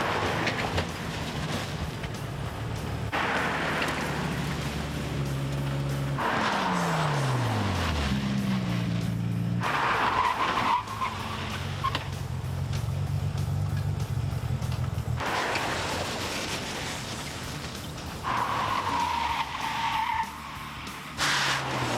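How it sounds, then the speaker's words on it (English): Acura Integra Type R street car braking hard from 60 mph to a stop, a loud sustained tire screech and squeal with gliding pitch over steady road and engine noise, several long skidding passes. "60 to 0 braking."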